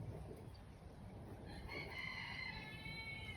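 A large, gentle backyard rooster crows once, a drawn-out call with a clear harmonic voice rising over steady outdoor background noise, fairly near and moderately loud.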